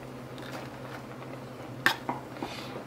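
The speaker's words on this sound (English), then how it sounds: "Now you're going to stir it vigorously until a creamy sauce is formed." Cheese sauce for mac and cheese is stirred in a pot on the stove, a soft low scraping swirl followed by a few sharp utensil clinks against the pot, close and quiet with no talk.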